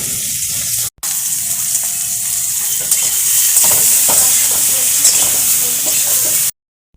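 Bay leaf, dried red chilli and panch phoron spices sizzling in hot oil for a Bengali shukto, a steady loud close crackle and hiss with a brief dropout near the start.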